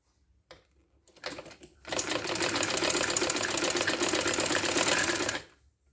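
A sewing machine stitches a kameez, starting with a few hesitant stitches before settling into a steady, fast whirring run of several seconds, close and fairly loud, then stopping.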